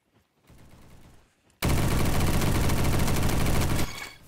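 A Tommy gun firing in the Roblox game Bad Business, a dense, loud burst of rapid automatic shots lasting about two seconds after quieter background game noise.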